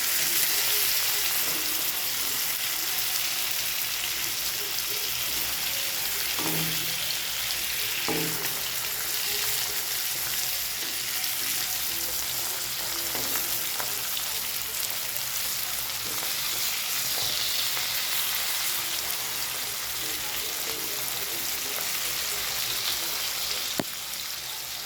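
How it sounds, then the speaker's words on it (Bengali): Fish frying in oil in a pan for a Bengali home-style dish, a steady close sizzle lasting throughout, with a few soft clinks as the pieces are turned. "লাল করে ভেজে নেব মাছগুলিকে।"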